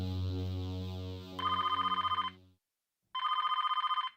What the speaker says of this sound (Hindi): पता नहीं किसका फोन आ गया इस वक्त